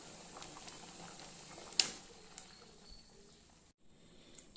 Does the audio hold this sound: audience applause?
no